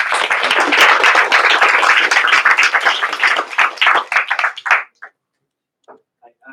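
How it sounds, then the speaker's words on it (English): An audience at an education talk claps loudly and steadily for about four seconds, then the applause thins into a few scattered claps and falls to near silence. "A round of applause"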